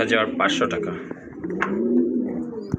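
Pigeons coo in low, throaty bursts at a pigeon farm, close by and mixed with a voice speaking over them.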